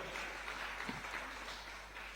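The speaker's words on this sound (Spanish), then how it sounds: "Da un aplauso a Cristo, por favor" Church congregation claps for Christ during a sermon, a faint, steady wash of applause heard at a distance over low room hum.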